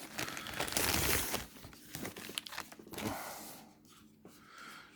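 Plastic wrapping around a PlayStation 5 controller crinkles and tears as it is unwrapped, with close bursts of rustling that ease into quieter intermittent crackles.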